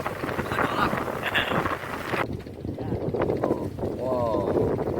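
Strong wind buffets the microphone with a rough, roaring rush over churning sea waves at a fishing platform at Tanjung Kait, while people talk over the noise.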